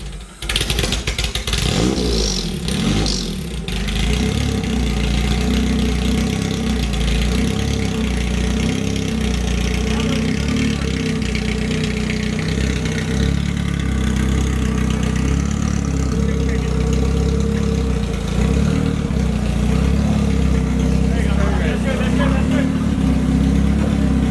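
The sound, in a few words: Honda-powered street legal buggy engine idling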